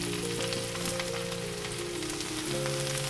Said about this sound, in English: we're gonna use that bacon grease to fry that cabbage up real nice for us